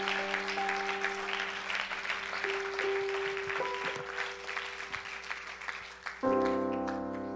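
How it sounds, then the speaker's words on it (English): A church congregation claps in praise, a dense patter of many hands over sustained keyboard chords that swell louder near the end, steady throughout the whole stretch. "Can we give the Lord a hand clap of praise tonight?"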